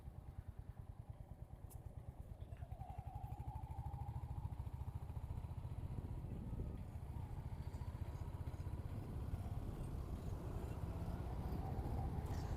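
A Royal Enfield Hunter 350 motorcycle riding on the road, from Kolkata to Shantiniketan, gives a steady, thumping single-cylinder engine pulse with road and wind rumble, holding constant and fairly low in level throughout.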